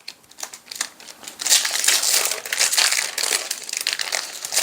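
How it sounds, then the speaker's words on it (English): A foil wrapper on a Magic: The Gathering trading card booster pack crinkles and tears open close by, quick crackling bursts swelling into a sustained loud crumpling with no talk. "these packs are so easy to open"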